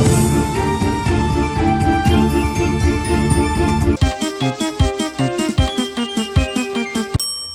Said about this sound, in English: you can actually hear the classic series runaway theme in the background.